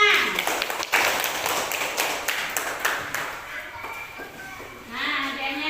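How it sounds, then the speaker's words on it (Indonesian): Children in a primary school classroom clap for a classmate after a story, a burst of scattered claps and taps with a few louder hits, thinning out toward the end while a voice is heard briefly. "Ya, kasih tepuk tangan."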